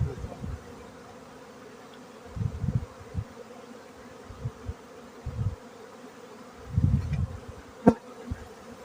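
Honeybees and drones buzzing during a beehive inspection, heard as soft, irregular bursts of close buzzing over a quiet hum, with no voices.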